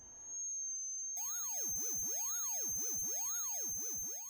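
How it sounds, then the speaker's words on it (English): A pure sine tone sounds briefly, then a distortion is switched on and turns it harsh and buzzy, with aliased components sweeping up and down in a repeating wavy pattern that continues steadily. "So I'm now going to bring the distortion back,"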